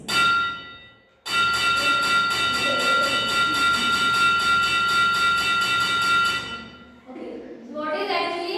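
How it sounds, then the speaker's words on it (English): An electric bell rings continuously for several seconds as its hammer strikes the gong in rapid succession, loud and close, then stops abruptly before a voice speaks. "This is how the bell rings."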